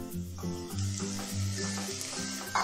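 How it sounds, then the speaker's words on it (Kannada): Beetroot fries in a pan after a tempering of seasonings, a close, steady sizzle with bursts of stirring, and no voices. "ಬೀಟ್ರೂಟ್ ಹಾಕ್ಕೊಂಡು 1 ನಿಮಿಷ ಫ್ರೈ ಮಾಡೋಣ"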